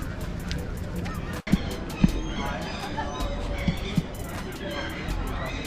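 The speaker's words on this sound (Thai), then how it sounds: "ตัวนี้เป็นห่าน" Geese call at a street market in Malmö, Sweden. A few short honks stand out over a steady murmur of market crowd and voices.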